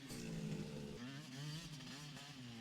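A motorcycle engine in the Motocross Madness PC game revs with a buzzing, rising and falling pitch as the rider tries for a wheelie. It is loud and continuous with no talking.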